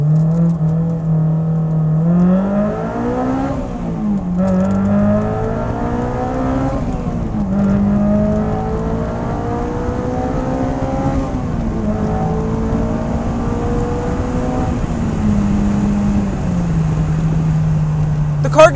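An AP2 Honda S2000 accelerates hard in first gear, its engine note climbing steadily in a loud continuous wail with a brief dip partway through, heard from inside the car.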